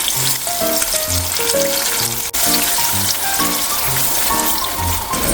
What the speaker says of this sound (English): While I'm frying up my second batch